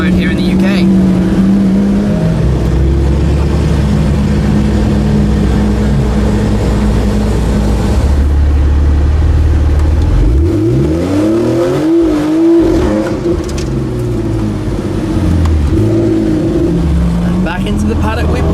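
A W Motors Fenyr SuperSport fitted with a Kline valvetronic exhaust runs up a UK hill climb, its loud engine droning and rising through revs with sweeping pitch changes and a sharp burst of acceleration midway, close and continuous.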